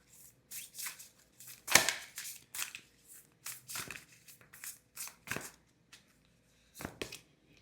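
Tarot cards being shuffled during a reading give quiet, close riffling bursts and soft slaps, arriving in irregular short clusters separated by brief silences.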